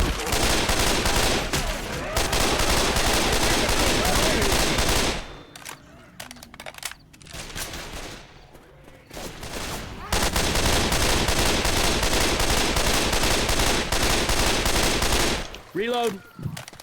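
SCAR rifle in Left 4 Dead firing long, dense automatic bursts, loud and near, with a quieter gap of scattered sounds midway before the sustained gunfire resumes and a voice briefly speaks at the end.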